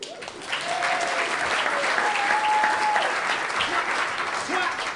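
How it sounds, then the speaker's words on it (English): Comedy club audience at an improv show claps warmly for several seconds, a steady wash of applause rising quickly after a brief start and holding, with a faint voice or whoop briefly over it. "give them a round of applause"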